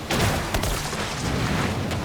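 Necromancer corpse explosions in Diablo 4 as a shadow blight build fights, a dense rumbling barrage of booming blasts layered with combat noise, loud and continuous for the whole stretch.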